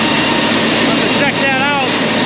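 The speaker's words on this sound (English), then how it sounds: "Something really squealing on that blower." A blower squealing while high-moisture corn is handled on a farm, a loud steady broadband machine roar with a wavering high-pitched squeal rising over it partway through.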